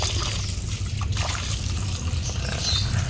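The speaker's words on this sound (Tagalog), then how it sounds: "Eto, palitan natin ng tubig nila." Water trickles and splashes steadily into a shallow bird water dish up close, a continuous liquid pour with a low background hum.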